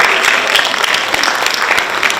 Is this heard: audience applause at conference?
yes